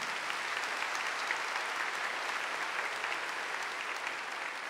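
Steady applause from a church congregation during a Catholic mass, a dense even wash of clapping that holds at a constant level throughout with no voices over it.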